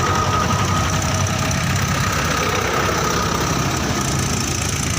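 A tractor engine runs in a Gujarat village, one of several tractors loaded with fodder: a steady, rough, knocking diesel idle, continuous and close, with no talk.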